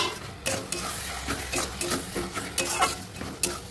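Goat skin is added to spiced masala frying in a pan on a gas stove and stirred, making a steady sizzle broken by irregular scrapes and clinks of a utensil against the pan, close and with no talking.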